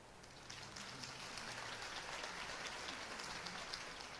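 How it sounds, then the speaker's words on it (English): Crowd applause follows a campaign speech in the Batman Telltale video game, a dense, steady wash of clapping heard fairly faint and even throughout with no voices. "could have heard that applause"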